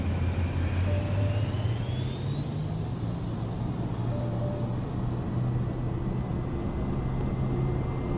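A Cirrus Vision Jet spools up for takeoff in Microsoft Flight Simulator 2024, a steady, loud jet engine roar with a slowly rising whine that holds throughout, with no talk.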